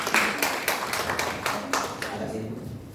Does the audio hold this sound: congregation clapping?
yes